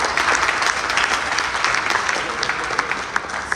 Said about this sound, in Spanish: Otro aplauso para Víctor.